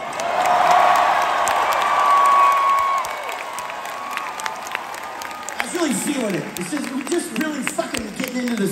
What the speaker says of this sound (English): big round of applause for us